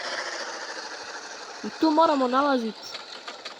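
A car engine runs in the video game The Long Way, with a buzzy, rattling idle that steadies and then fades under a voice speaking briefly in the middle.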